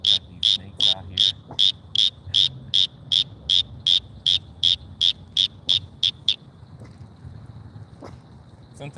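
Frogs calling by a pond, a rapid series of about fifteen loud, evenly spaced high trilling croaks that stop abruptly, followed by quieter background chorus and faint outdoor noise.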